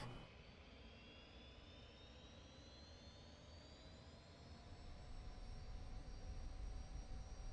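Jet engines spool up for takeoff in a flight simulator game, giving a steady, roaring whine with rising tones that grows louder as thrust builds.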